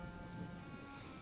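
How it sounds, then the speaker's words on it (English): Steady rainfall from the Gothic 2 video game pours continuously, a dense even hiss of drops with a faint low rumble beneath, no voices over it. "Look at these rain effects."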